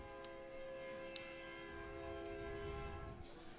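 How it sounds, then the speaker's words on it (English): A loud, sustained train horn plays over the ballpark speakers as the strikeout train sound effect at Wolf Field during a baseball game. The steady, blaring tone holds through, with faint crowd murmur underneath. "Third train of the night. This time now we're in the field, so it is called the strikeout train here at Wolf Field."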